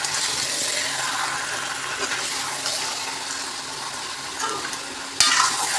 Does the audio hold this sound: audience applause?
no